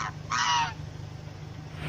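A goose gives two short, nasal honks close by, the second louder and longer, with quiet background hum and no talking.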